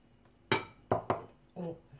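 Parmesan and mozzarella being mixed in a bowl with spinach, three or four sharp close clinks of a utensil against the bowl over a quiet background.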